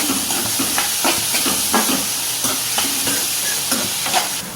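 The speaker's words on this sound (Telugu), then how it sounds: "అల్లం వెల్లుల్లి పేస్ట్ వేస్తున్నాను" Ginger garlic paste sizzles and spits in a hot pan for a mushroom curry, loud steamy hissing broken by rhythmic stirring scrapes every half second or so.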